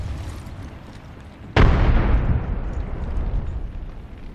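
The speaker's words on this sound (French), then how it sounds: "Grenade frag lancée." A frag grenade explodes in the Apex Legends game on the Olympus map, a single sudden loud blast followed by a long rumbling decay, with no talk over it.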